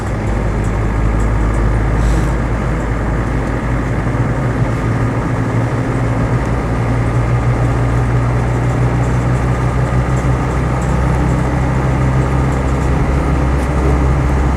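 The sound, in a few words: Land Rover 90 2.5 TD hardtop driving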